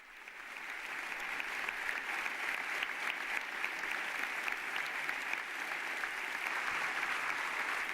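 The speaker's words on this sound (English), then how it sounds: "now a very long round of applause at the end of the speech" A long, steady round of applause from a standing audience at the end of Pope Leo XIV's speech at La Sapienza University in Rome, dense and sustained throughout without pauses.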